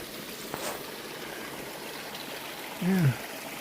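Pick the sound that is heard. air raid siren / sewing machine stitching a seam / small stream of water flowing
small stream of water flowing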